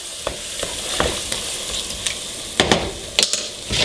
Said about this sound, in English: So we're going to add all the rest of the goodies here. I'm going to stir it all up.